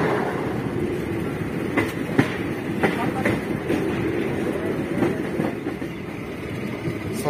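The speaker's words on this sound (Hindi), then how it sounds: "हमारी ट्रेन चल पड़ी है सब्जी मंडी से।" A MEMU suburban train pulling out of Sabzi Mandi station in Delhi, heard from on board as a steady rumble of wheels on rails with faint clicks over track joints, continuous and fairly loud without talk.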